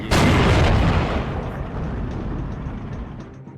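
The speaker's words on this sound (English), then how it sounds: "the T-34 manages to fire at the Panzer Grenadier on the side of the other plateau" A T-34 tank gun fires in the World War II strategy game Steel Division 2, a single loud, close boom that strikes sharply and then rolls off in a long, rumbling decay.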